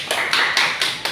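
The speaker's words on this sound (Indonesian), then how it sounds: "Boleh apa tepuk tangan untuk kelompok B?" A classroom group claps in a steady, even rhythm, about five sharp, close claps in quick succession, for students presenting at the front of the class.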